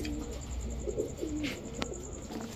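Large Pakistani pigeons coo close by in soft, repeated low calls, steady over a constant background hum.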